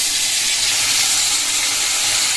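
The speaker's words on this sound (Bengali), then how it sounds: "তো চলো মাছটা এখন ভেজে নিই।" Fish coated in salt and turmeric sizzling in hot oil in a pan, a loud, steady, close hiss and crackle throughout.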